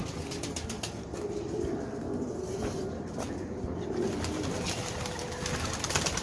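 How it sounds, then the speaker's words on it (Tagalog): Racing pigeons coo steadily inside their somewhat dirty loft, a close, continuous chorus of low throaty calls with occasional wing rustles and no one talking. "Pasilip ko nga pala sa inyo yung mga ikakarera mga kalapatids."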